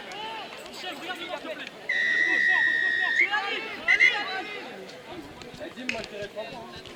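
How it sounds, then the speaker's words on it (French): A referee's whistle blows a sharp, sustained blast followed by a short second toot during a rugby match, heard over crowd chatter and a commentator's voice. "l'arbitre vient de siffler une pénalité contre Ville-Mont-Royal"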